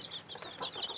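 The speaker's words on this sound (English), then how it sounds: "These are Old English game bantams." Several Old English game bantam chickens cluck quietly, a scatter of short, high clucks and chirps that come close together at low volume.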